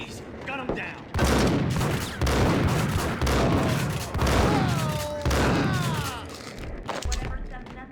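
Rapid bursts of gunfire from the shooter game Max Payne, several loud volleys in quick succession with sharp cracks and ringing tails, with voices talking between shots.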